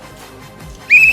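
A whistle is blown in one loud, shrill, sustained blast that begins abruptly near the end after a quiet lead-in, with no talking over it.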